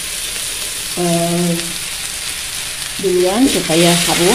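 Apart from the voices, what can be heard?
sautéing spring onions in a pan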